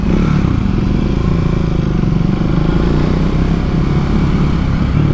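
A 2024 Triumph Speed 400 motorcycle rides along at a steady pace, its engine droning loud and continuous with road and wind rumble close up.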